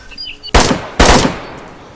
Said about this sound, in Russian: Буду стрелять.